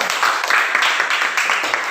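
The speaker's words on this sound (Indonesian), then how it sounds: "Oke, tepuk tangan dulu." A classroom of primary school pupils clapping their hands together, a dense, even patter of many small claps close by lasting just under two seconds.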